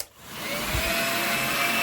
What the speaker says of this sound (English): the motor will ramp up and then it'll cut itself off